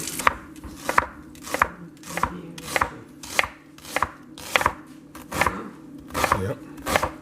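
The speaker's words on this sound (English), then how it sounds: "I'm going to chop up an onion" A knife chops an onion on a cutting board in a home kitchen, about a dozen sharp, evenly spaced close thwacks with a steady rhythm and no talk.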